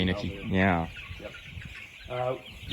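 Chickens in a crowded barn cluck in a few loud, close bursts, with quieter scratching and shuffling in the pauses between calls.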